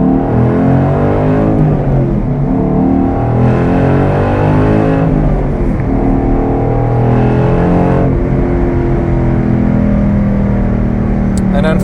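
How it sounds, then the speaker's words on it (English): A 2012 Ford Boss 302 with a six-speed manual pulls hard on a test drive, its V8 exhaust rising and falling through repeated revs and gear changes, loud and continuous, with a voice talking over the engine. "But you can hear the exhaust there. Sounds awesome."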